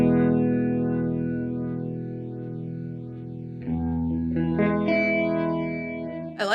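Guitar played through an Alexander Sugarcube stereo chorus pedal with feedback added: a long held chord warbles and undulates in cyclic sweeps, followed by a couple of new plucked notes and strums that swirl and echo, close and unaccompanied.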